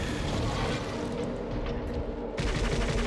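Sustained, dense assault rifle fire in the survival horror game Silent Hill Origins, loud and continuous with heavy low-end rumble, cutting off abruptly near the end before another burst resumes.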